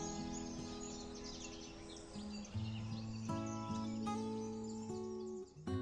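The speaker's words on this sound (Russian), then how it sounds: "а птицы как громко поют, слышите?" Birds chirp and sing continuously in Italy over a steady, droning bed of low sustained tones, with no voices present.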